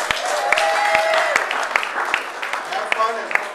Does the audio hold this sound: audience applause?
yes